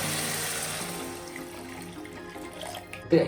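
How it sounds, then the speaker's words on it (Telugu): Water runs and splashes steadily into a pan for a few seconds while making upma, ending with a brief louder clatter. "ఇప్పుడు దీంట్లో వాటర్ యాడ్ చేస్తున్నాను ఒక గ్లాస్ వాటర్"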